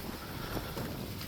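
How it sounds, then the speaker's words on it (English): Steady broadband wind rushes and buffets against the microphone outdoors in a mango orchard during a summer heatwave, fairly quiet and constant with slight gusting. "it's windy, guys. It's windy. It's always bloody windy."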